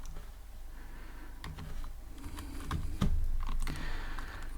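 Someone types Python Tkinter code on a computer keyboard, a brisk cluster of close, distinct key clicks with a couple of heavier thumps near the middle and no speech.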